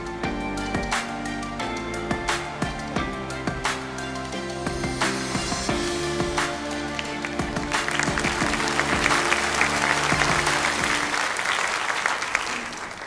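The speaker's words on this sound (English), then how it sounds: "Let's give a round of applause again for all of our student leaders" A school audience applauds its student leaders at a day-of-service event, with sustained clapping from a sizable crowd filling the room and swelling before fading out.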